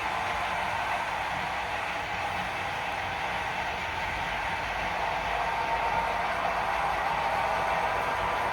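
A model railroad coal train runs at a model railroad club, giving a steady, continuous rumbling whir that holds at an even level throughout, with no talking.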